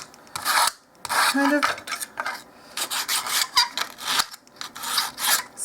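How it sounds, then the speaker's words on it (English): Sandpaper rubs the finish off a small wooden dollhouse shelf from a miniature kit in quick, close, scratchy strokes that come in uneven bursts with brief pauses, and a voice murmurs briefly. "sanding off some of the finish here and there"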